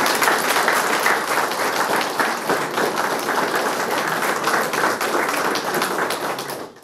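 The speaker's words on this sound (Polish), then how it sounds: "Wielkie brawa dla nowego pana komendanta." A crowd at a ceremony for a new fire commander applauds with loud, dense, sustained clapping that holds steady for several seconds before fading out at the end.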